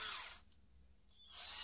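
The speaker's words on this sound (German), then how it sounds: "Schneide also mein Gewinde hinein." A tap cuts a thread into a pre-drilled hole in a wheel adapter for twin truck tires on a Bruder toy truck. Two loud whirring tool bursts come close up, with a quiet gap between them.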